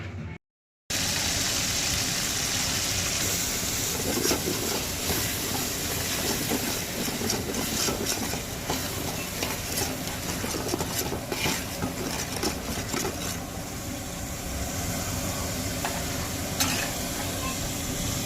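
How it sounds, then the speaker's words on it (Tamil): Onion paste, about 200 grams, poured into hot oil for a village-style chicken thokku biryani, giving a loud, steady broadband sizzle and hiss that runs unbroken after a brief silent start. "நம்ம வெங்காயம் வந்து இரநூறு கிராம் அளவுக்கு பேஸ்ட் பண்ணி வச்சுருக்கேன் ஊற்றிக்கலாம்"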